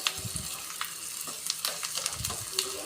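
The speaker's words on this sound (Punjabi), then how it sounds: "ਤੇ ਹੁਣ ਆਪਾਂ ਪਿਆਜ਼ਾਂ ਨੂੰ ਆ ਜਿਹੜਾ ਚੰਗੀ ਤਰ੍ਹਾਂ ਭੁੰਨਾਂਗੇ" Onions frying in a pan on a gas stove, a steady soft sizzle broken by scattered crackles and scraping stirs from a ladle, close and fairly quiet with no talking.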